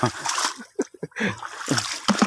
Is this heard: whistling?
no